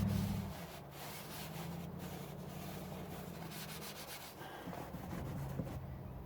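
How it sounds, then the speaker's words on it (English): A new oil filter being screwed on by hand on a high-mileage engine, a faint, steady rubbing and scraping that runs without a break and sits close to the microphone. "Here's the new one, screwing it on. Nice and hand tight,"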